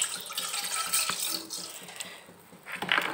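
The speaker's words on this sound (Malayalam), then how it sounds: "ഇനി ചുവട് കട്ടിയുള്ള ഒരു പാത്രത്തിലേക്ക് അതിലേക്ക് ഒരു കപ്പ് പാൽ ഒഴിച്ചു കൊടുക്കുകയാണ്." A cup of milk streams into a heavy-bottomed pan with a close, continuous liquid splashing and trickling that thins out midway, then picks up again; no talking.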